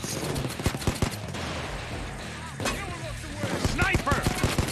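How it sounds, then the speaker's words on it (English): Pistol shots in the heist game Payday 2, several sharp cracks in irregular bursts among other gunfire and chaotic game noise, with people talking over the action. "Yeah, I'm using my pistol right now."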